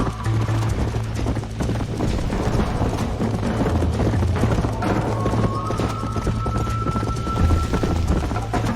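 Horse hooves galloping in Red Dead Redemption, a loud rapid clip-clop beat continuing steadily up close over a sustained low drone and game music.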